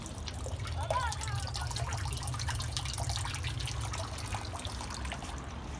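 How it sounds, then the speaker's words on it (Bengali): Water runs from a motor-driven pump just switched on, a continuous splashing trickle with a low hum underneath, moderately close, while a person speaks briefly. "ওই যে পানি পড়তেছে"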